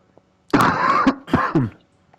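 A man on a podcast gives a couple of loud, harsh coughs and clears his throat right at the microphone, in two close bursts with no other talk.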